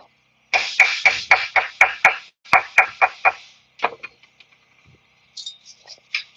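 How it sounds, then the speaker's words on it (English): A chipping hammer raps quickly and sharply against slag on a fresh weld on a broken trailer, about a dozen close metallic knocks in a steady rhythm, then a few scattered lighter taps. "Knock that slag off."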